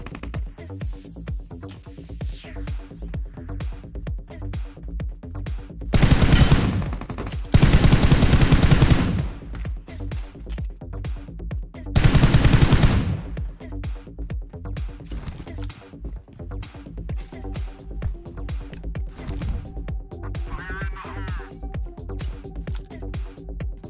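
AUG rifle fire in a mobile shooter video game: three loud bursts of rapid automatic shots spaced several seconds apart, over a constant bed of quieter game ambience and distant pops.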